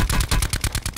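Rapid burst of gunfire in the COD Blackout battle royale game, about nine loud punchy shots in quick even succession, close and dry with no talk.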